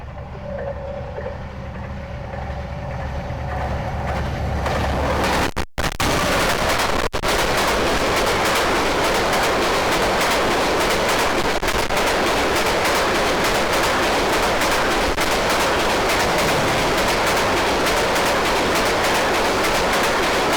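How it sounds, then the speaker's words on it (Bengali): A train passes along a railway line near Sitakunda in rainy weather, a loud, sustained rumble and clatter that builds quickly and roars steadily close by for the whole stretch. "রেডি থাকুন সবাই আপনাদেরকে এখন ট্রেন দেখাচ্ছি"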